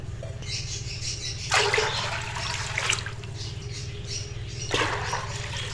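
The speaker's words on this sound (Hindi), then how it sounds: "और अब हम इसमें डालेंगे पानी, और पानी आपने ज़रा खुला डालना है" Water splashes into a pot of chickpeas for Lahori chane in two loud, gushing pours separated by a pause, over a steady low kitchen hum.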